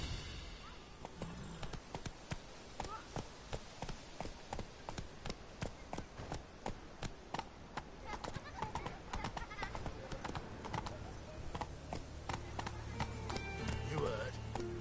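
Roach the horse galloping in The Witcher 3: Wild Hunt, a steady rapid clip-clop of hooves running throughout, with voices talking over the hoofbeats.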